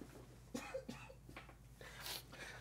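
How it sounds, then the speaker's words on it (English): A couple of soft, quiet coughs close by, with a short pause between them, in an otherwise hushed room. "A little cough there."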